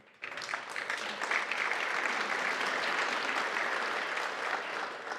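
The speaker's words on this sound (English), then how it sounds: "after you got all that applause" Audience applause at a main-stage interview, a steady wash of clapping that swells right after a short lull and holds evenly to the end, with no voices over it.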